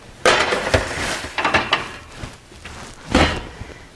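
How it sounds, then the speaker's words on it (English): A tray of homemade meatballs goes into a home oven with several sharp metallic clanks and knocks, a rack sliding and a door thud spread over a few seconds, close and fairly loud. "So now I'm going to place them in my oven."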